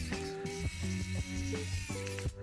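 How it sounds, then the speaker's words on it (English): A small screwdriver drives tiny screws back into an iPod Classic during reassembly, giving close, rapid ratcheting clicks and faint metallic scraping in short repeated bursts. "Now we can get these screws back in"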